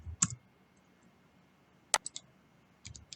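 Computer mouse clicks while drafting in AutoCAD, a few sharp isolated clicks separated by quiet pauses, close and crisp with no talking.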